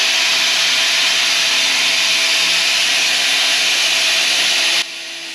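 A bench grinder whirs at a constant high-pitched roar as it sharpens a blunt drill bit. It stays loud and close throughout, then drops to a quieter hum at the very end.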